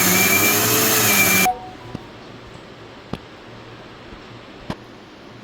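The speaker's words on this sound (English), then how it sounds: "Now adding rice to the mixer jar." A mixer grinder whirs loudly while grinding soaked rice and puffed rice in its jar, then cuts off abruptly, leaving quiet room tone with a few faint clicks.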